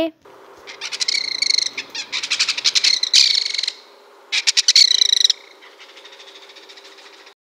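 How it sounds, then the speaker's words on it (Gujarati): A kingfisher gives harsh, rapid rattling calls in quick bursts, loud and near, separated by short pauses and trailing into fainter chatter. "આ છે કલકલિયું તેનો અવાજ થોડો કર્કશ હોય છે"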